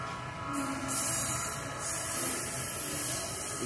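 A VLI freight train led by an ES43BBi locomotive rumbles past in Embu-Guaçu, Brazil, heading toward Santos, with a steady rolling drone, a faint metallic squeal riding above it, heard at moderate distance with no talking.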